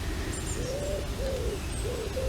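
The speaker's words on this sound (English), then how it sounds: "hearing all the birds in the trees" Birds call from trees in an open countryside garden setting, with repeated soft cooing notes like a pigeon or dove and faint high chirps scattered above a steady low rumble of outdoor background.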